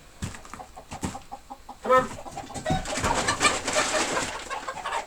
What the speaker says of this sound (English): if you don't want your hens in here, Mr. Rooster, then keep them out